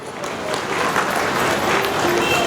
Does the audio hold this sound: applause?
yes